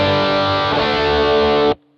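Electric guitar played through the distortion setting of an MXR Rockman X100, a loud, saturated sustained chord with a restrike partway through, then cut off abruptly into near silence at the end.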